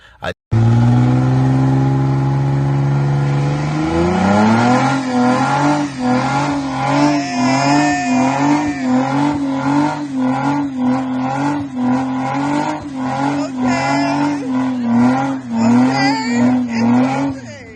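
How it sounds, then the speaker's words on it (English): A Nissan G35's engine revs hard and holds at a loud, high pitch up close, its tires spinning and squealing against the pavement. "Burning rubber."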